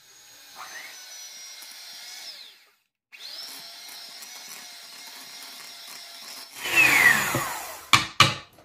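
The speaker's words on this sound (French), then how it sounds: "Maintenant, on va mélanger ça." Vanilla cream mixture for a Kinder Délice dessert being mixed, heard as a steady motor whine in two long runs with a brief pause between them, then a few louder clattering knocks at the end.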